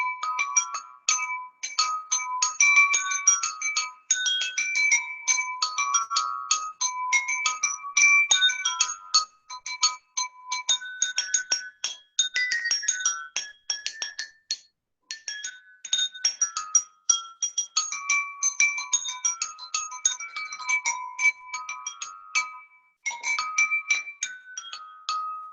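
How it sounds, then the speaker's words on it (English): Jaltarang, water-filled porcelain bowls struck live, ringing out a rapid melodic line of bright bell-like tones, clear and close, in phrases with short pauses. "That's the beauty of this instrument. It's so soothing and sounds like bells."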